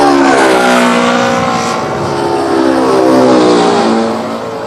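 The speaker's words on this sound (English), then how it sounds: "As the plane flies away, the sound waves stretch out and the frequency and pitch change again." A jet aircraft flying past at close range near an airport, a loud sustained engine roar whose pitch sweeps downward as it passes and recedes, with no voices.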